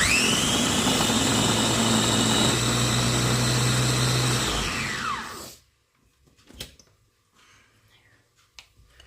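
A blender whirs loudly at high speed for several seconds, blending a salad spread with a little oil, then winds down and stops, followed by a few soft clinks and near silence.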